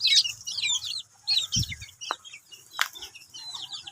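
A white chicken and a red junglefowl cluck and chatter nearby on a farm, with soft, repeated clucks, a few sharp calls and faint background bird chirps.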